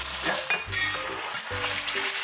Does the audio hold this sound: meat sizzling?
yes